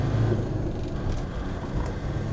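A 1999 Land Rover Defender 110 with the TD5 diesel pulls through a gear change, giving a steady low cabin rumble that stays even from start to finish, with no speech heard.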